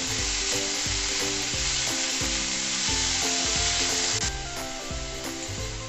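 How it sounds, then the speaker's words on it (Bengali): Boiled pumpkin greens fry with garlic in a hot pan, a loud continuous sizzle cut by a rhythmic scrape of a spatula stirring, close and steady throughout. "এরপর আমি রসুনের সাথে শাকটা ভালোভাবে ভেজে নেব।"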